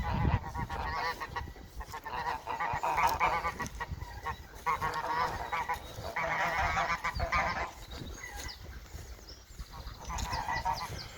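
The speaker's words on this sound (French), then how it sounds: "je vais pas aller déranger les oies qui couvent" A flock of nesting geese honks continuously at moderate distance, overlapping calls rising and falling over a rustling outdoor background.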